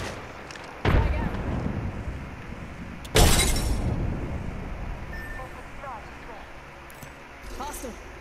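Two sharp frag grenade blasts in the shooter game Apex Legends, the second louder with a longer rumbling tail, alongside character voice lines and scattered small clinks and chirps.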